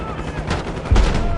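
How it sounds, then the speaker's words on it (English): Rapid gunfire crackles in a Black Ops 6 campaign battle over desert dunes, a loud dense volley that swells into a heavier boom near the end. "We've got gunfire to the right."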